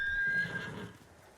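A horse in Ghost of Tsushima lets out a single loud, close whinny that tails off within about a second, with faint hoof clip-clop beneath it and no talking.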